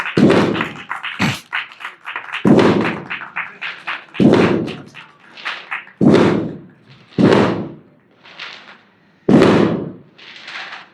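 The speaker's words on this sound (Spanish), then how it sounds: "Gracias por los cohetes." Fireworks rockets go off at a festive celebration, with about six sharp, loud bangs at irregular intervals a couple of seconds apart, each decaying quickly.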